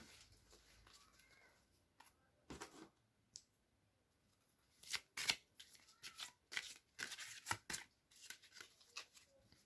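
Tarot cards being shuffled by hand at close range, a quiet stretch followed by a series of soft, crisp riffling and slapping bursts in an otherwise hushed room.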